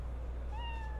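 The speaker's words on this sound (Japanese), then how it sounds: "あー、猫ちゃんいたの。" A cat in the video game Cyberpunk 2077 lets out a single short, clear meow partway through, over a low steady background hum.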